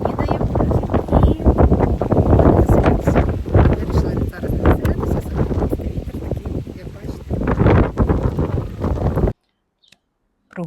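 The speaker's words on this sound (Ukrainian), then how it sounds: "Мені, якщо чесно, трішки прохолодно і я би сказала навіть вітряно." Steady wind buffeting a microphone outdoors in Odesa on a chilly day, a loud continuous rumble with gusts, before cutting out near the end.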